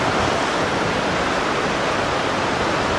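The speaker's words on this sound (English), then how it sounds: "waves going back out to sea, the backwash, is fairly weak" Constructive waves wash up a sediment beach at Burnham-on-Sea, Somerset, England, as a loud, steady broadband roar of surf and swash with no distinct breaks, filling the whole stretch without any voices.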